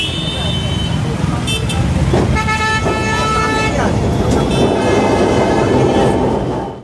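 Dense street traffic of motorbikes and cars in Calcutta, a steady loud roar with repeated horn toots standing out over the continuous rumble, with voices mixed in.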